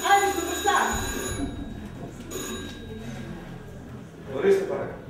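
On stage in an amateur Greek theatre play, a telephone rings with a bright electronic trill in two short bursts, while actors speak over and between the rings in a reverberant hall.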